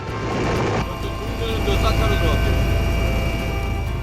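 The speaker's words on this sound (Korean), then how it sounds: "기장은 헬기의 방향을 돌려주고 기자는 이때를 놓치지 않는다" A news-gathering helicopter turns in flight during aerial filming, giving a continuous, loud rotor and engine drone that holds steady throughout.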